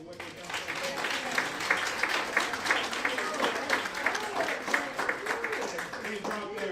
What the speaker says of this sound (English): Can y'all give them a round of applause for what they've done so far?